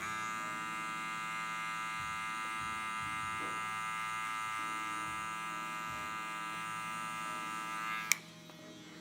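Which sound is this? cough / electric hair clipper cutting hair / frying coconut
electric hair clipper cutting hair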